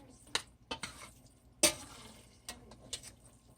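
Noodles being stirred in a pot, with a few scattered utensil scrapes and clinks including one sharper knock midway, close and quiet, over a faint sizzle.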